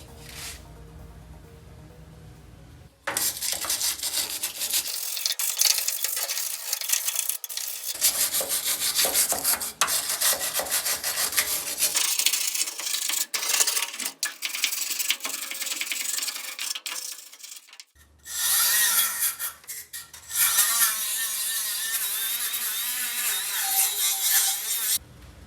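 Rusty metal on a 1968 Ford F250 under restoration is scraped and sanded in long, steady, harsh rubbing strokes up close, with a few short pauses and shifts in intensity.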